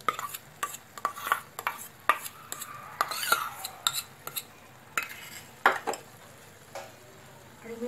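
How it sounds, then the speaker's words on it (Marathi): Remaining ghee goes into semolina sheera in a pan, followed by a string of sharp spoon clanks and scrapes against the metal with a soft sizzle underneath, irregular and close, then quieter near the end. "आता हे उरलेलं जे तूप आहे ते सर्व तूप मी याच्यामध्ये टाकणार आहे।"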